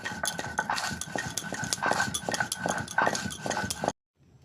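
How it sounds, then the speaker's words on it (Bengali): Spices being ground by hand on a stone slab pata, a dense run of gritty scraping and knocking strokes that stops abruptly near the end. "মশলাটাকে আমি গুঁড়ো করে নিচ্ছি দেখো পাটায়"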